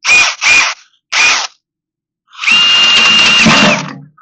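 A power drill whirs in three short bursts, then runs in one longer steady spin, loud and close, while work is done on a 1957 Chevy battery box.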